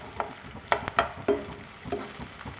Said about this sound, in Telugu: జస్ట్ లైట్గా ఫ్రై చేసుకుందాము